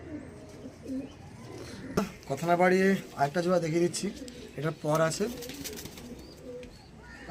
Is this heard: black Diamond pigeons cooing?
yes